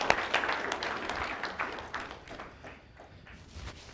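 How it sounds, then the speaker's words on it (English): Crowd applause at the Ruxmon August 2025 security meetup, a burst of clapping that starts fairly strong and gradually thins and fades as it trails off. "So please, a hand of applause to the guy and let's go."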